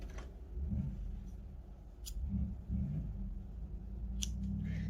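Scissors snip crochet yarn in a couple of quick, close, crisp cuts over a low background hum, with no talking.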